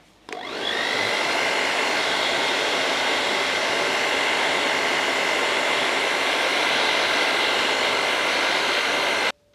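A hair dryer on its cold setting blows in a steady, loud whooshing roar while drying a frontal wig at the hairline, starting abruptly and running unbroken for about nine seconds before cutting off.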